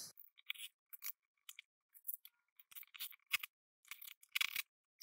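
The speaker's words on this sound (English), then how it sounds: "Strip these wires back a touch." Insulation being stripped from electrical wires for a power outlet installation, heard as quiet, close crisp snips and scraping clicks in short irregular bursts with silent gaps between.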